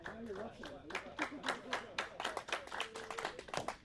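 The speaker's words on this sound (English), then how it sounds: "Clap starting for the Cropdusters." A small crowd at a youth baseball game claps in a rhythmic, chant-like pattern for the home team, fairly distant, with a commentator talking over it.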